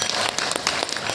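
An audience claps at a temple gathering for a Shiva pradosham at Nandeshwara temple, giving dense, steady applause from many hands nearby.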